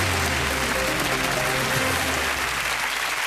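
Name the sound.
studio audience applause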